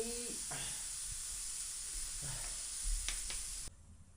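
Oil hissing in a small pot on a stove in a prefab hut during a snowy cycling stop, a steady faint sizzle with a few scrapes and clatters before it cuts off.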